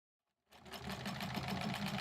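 A sewing machine starts up after a moment of silence and runs steadily, stitching quilt blocks together with a close, rapid mechanical chatter.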